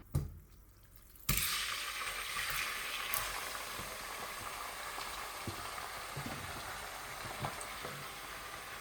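Meat frying in hot oil in a pan on a stove over high heat; a steady, fairly close sizzle and hiss starts abruptly after a short quiet moment and carries on with small crackles and pops.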